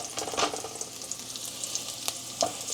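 Squid frying in a pan makes a steady close sizzle with a few sharper pops and crackles on top, and no voices.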